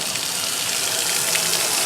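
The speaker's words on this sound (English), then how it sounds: "I'm gonna get the hose out now" Water from a garden hose sprays steadily onto the motor of a Toro 455 mower, making a close, continuous gushing hiss with no pauses.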